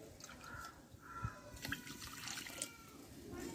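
Water poured from a bowl into a pan holding sugar for syrup, a soft trickling splash lasting a few seconds, quiet and close with small drips.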